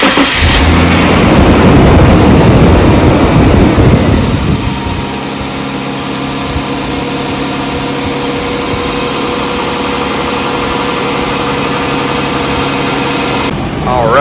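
A Jaguar XJS engine starts with a loud burst of cranking and revving, then settles into a steady, droning idle that holds close and constant until the end.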